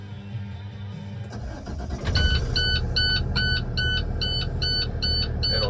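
A 2018 International DuraStar 4300 box truck cranks and catches into a low idle, then a regular series of high electronic beeps repeats over the engine rumble during its startup checks.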